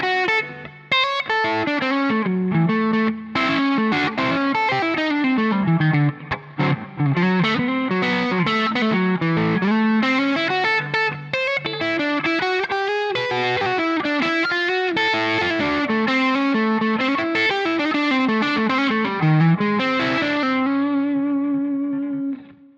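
Electric guitar through a modified Rat distortion pedal, playing a continuous, heavily driven melodic riff with thick sustain and gliding bends, loud and alone.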